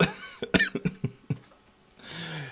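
A burst of several sharp coughs in quick succession, close and loud, followed by a breathy exhale.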